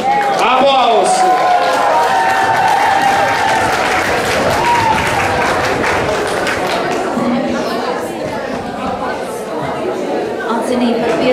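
Loud, sustained applause and cheering from a school crowd at an aerobics day event for 7th and 8th graders, honouring class 7A, with lively chatter and shouting voices throughout.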